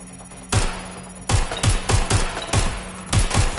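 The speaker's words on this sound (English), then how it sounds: "I'm hearing gunfire." Gunfire in the video game Watch Dogs: Legion: loud, close bursts of shots over a low background hum, with a single burst, a pause, then a rapid uneven series of cracks.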